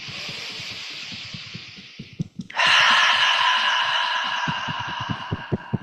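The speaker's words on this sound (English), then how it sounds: "And then we take a deep breath in." During a somatic tapping meditation, a long, loud breath is drawn in and then let out in a smooth rush, while soft rhythmic tapping thuds continue beneath it.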